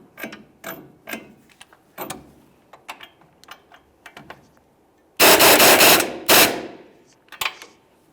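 Ratchet tightening a ball joint nut on a 1999-2006 Chevrolet Silverado 1500, heard as a series of short clicking bursts followed by a loud, dense rapid ratcheting run near the end, close and without talk.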